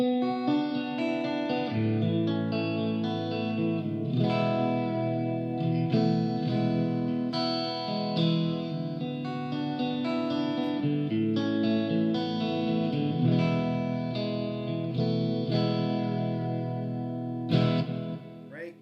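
Clean electric guitar rings out in shimmering chords and single notes, bright and glassy with a chorus-like sheen, played continuously without any voices.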